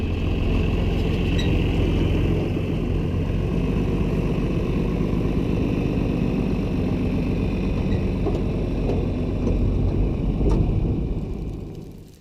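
A tractor engine runs on a farm in a northwest wind, a low, steady rumble holding near and constant before fading at the very end.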